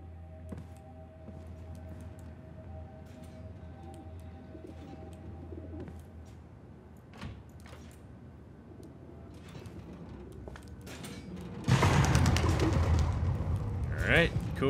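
Pigeons coo inside the capsule-apartment labyrinth of the video game Observer, soft repeated calls over a low ambient hum, followed near the end by a louder burst of broadband noise.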